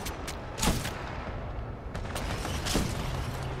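Gunfire in Titanfall 2 cracks out in a few sharp shots, a loud burst near the start and another near the end, over a steady rumbling background.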